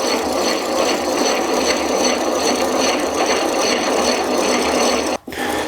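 A hand-cranked Stanley 77 dowel maker cuts through mahogany, giving a loud, rhythmic rasping and grinding with a repeating pulse from each turn of the crank, breaking off abruptly near the end; no talking.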